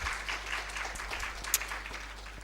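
Faint, distant applause from a conference audience in Karachi, thanking a doctor for her talk on psychiatric rehabilitation. The clapping sits under a steady low electrical hum, with one brief sharp spike partway through.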